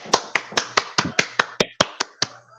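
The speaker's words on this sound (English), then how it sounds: "Everybody, get a round of applause for your boy, Nappy" A small group claps for a guest arriving on a podcast set, about ten sharp, fairly even claps spread across a couple of seconds, close and dry, with no talking over them.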